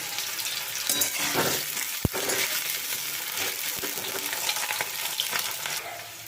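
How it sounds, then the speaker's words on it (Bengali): Steady frying sizzle of potatoes in oil for jackfruit curry, a dense crackling hiss throughout, with a sharp clink of a utensil midway and occasional stirring scrapes. "আলুগুলো আমি একটু লালচে করে ভেজে নেব"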